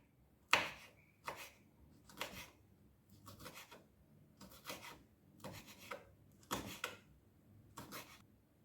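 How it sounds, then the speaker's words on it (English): A knife slices bell peppers for a plantain and egg frittata, about eight separate crisp cutting strokes at an uneven, unhurried pace, close but quiet against a still background. "Time to slice the peppers."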